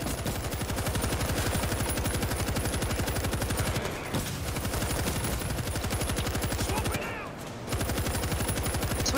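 A machine gun fires in the video game World War Z, a loud, steady, rapid stream of shots that runs almost without break for about nine seconds, with only a brief dip near the end.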